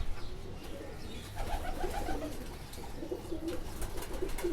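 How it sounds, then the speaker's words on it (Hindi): A black-patterned domestic pigeon gives low, repeated throaty coos while a breeder holds it in his hands, heard close up with faint background rustle. "बिल्कुल जो है बेदाग कबूतर है।"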